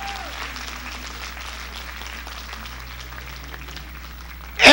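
Sustained applause crackles continuously from a church congregation, a dense steady patter at moderate distance, ending in a sudden loud burst.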